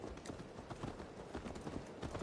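Horse hooves clip-clop steadily on the ground in the video game Assassin's Creed Valhalla, a quiet, even rhythm of close hoof strikes with no voices over it.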